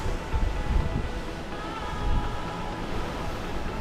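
Sea waves surge below a cruise ship cabin balcony on the ninth deck of Spectrum of the Seas, mixed with heavy wind buffeting and a low rumble, steady and close with no talking.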